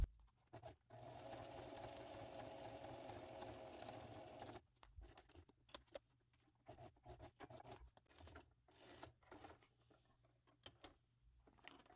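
Sewing machine stitching along a fabric edge: a steady close whir of several seconds, then short stop-start bursts of stitching with handling rustles between them.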